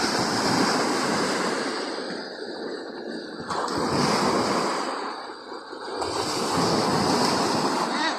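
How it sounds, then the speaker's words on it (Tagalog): Strong ocean waves crash and surge during the southwest monsoon, a loud roar that swells and ebbs in broad pulses, with wind buffeting the microphone. "sobrang lakas ng alon"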